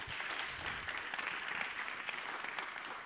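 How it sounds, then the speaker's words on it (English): A conference audience at a ChangeNOW 2022 panel session on the poles claps steadily and fairly loudly, a dense, even patter of many hands that lasts throughout without pausing. "Please give a round of applause for this."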